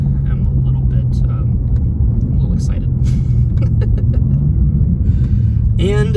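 A 2023 BMW M2 accelerates hard, its engine a steady, loud rumbling drone heard from inside the cabin. Excited talking runs over it throughout.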